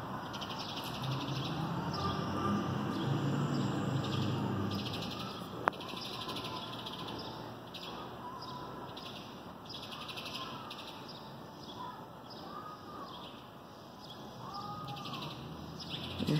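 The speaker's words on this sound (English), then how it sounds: "She's been squawking and watching." A bird perched high under a light fixture gives intermittent squawking calls over a steady outdoor background hiss, with no voices present.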